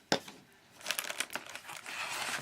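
Scissors crunch and snip through scrap pizza box card, a sharp cut at the start, then a run of crinkling, rustling snips as the card is roughly trimmed close by, with no talking.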